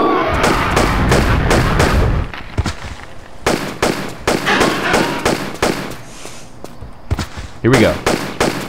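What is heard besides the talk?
gunfire in the video game Tomb Raider: Chronicles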